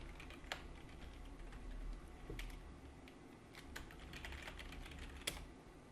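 A password being typed on a computer keyboard at a Linux terminal, quiet irregular key clicks scattered across a soft background hum, no voices.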